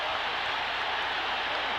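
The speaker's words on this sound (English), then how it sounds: "A tremendous crowd of people are pushing their way in." A boxing arena crowd roars in steady applause and cheering just after a heavyweight title fight ends with the champion's win, as people push their way in toward the ring in a loud, continuous wash of noise.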